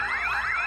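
A man shed's alarm system sounds a loud, close electronic warble that sweeps up and down repeatedly in a continuous siren-like wail, heard alone.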